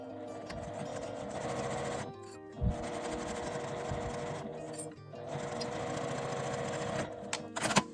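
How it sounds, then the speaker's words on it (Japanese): A sewing machine stitches a lined flat fabric pouch with a 5 mm seam allowance, running in steady close bursts with short pauses between them. "5ミリの縫い代で縫います。"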